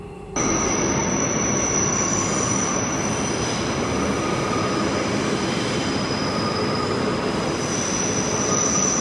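A Queensland Rail passenger train rumbles past close by, a steady loud roar of wheels on track with a high metallic squeal running throughout.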